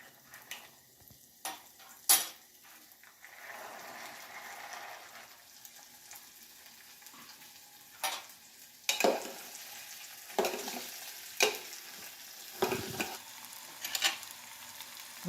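Sprouted moong stirs and fries in a pan with hing and turmeric, with a soft steady sizzle broken by sharp spoon-against-pan knocks and scrapes, some loud and close.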